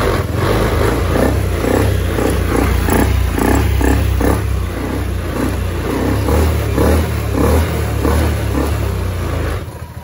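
A Honda Beat ESP motorbike engine, reset and tuned at the ECU, runs loud and close with a throaty, pulsing idle and steady throttle, holding evenly for about ten seconds before easing off at the end, with no talk.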